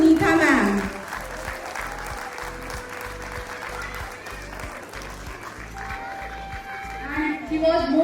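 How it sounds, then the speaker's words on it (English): An audience at a school event gives a round of applause, a steady wash of clapping at moderate loudness while a presenter's amplified voice speaks over the start and end. "Please give a huge round of applause to Neetha ma'am."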